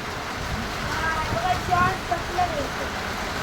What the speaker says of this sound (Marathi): जोरात आला पाऊस